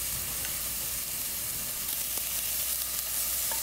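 Meatballs for a rich dumpling-soup broth sizzle and fry steadily in a pan as they are rolled to cook, a constant hiss of crackling fat, fairly quiet and without speech.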